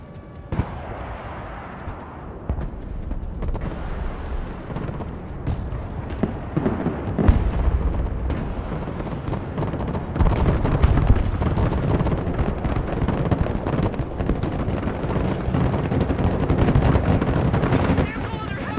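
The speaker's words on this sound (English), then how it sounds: "Vehicle under heavy fire." A vehicle in a combat video game takes heavy fire, with a dense, rumbling wash of gunfire and explosions building steadily louder throughout.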